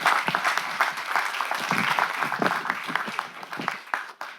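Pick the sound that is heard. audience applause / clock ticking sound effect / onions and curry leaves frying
audience applause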